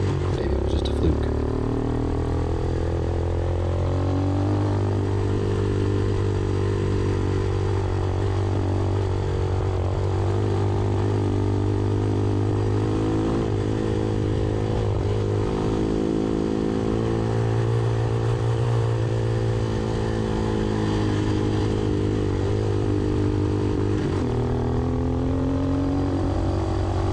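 A Hawk 250 motorcycle runs steadily on a test ride, its engine droning with a continuous harmonic tone that rises and falls as revs shift, close and loud throughout with no other sounds.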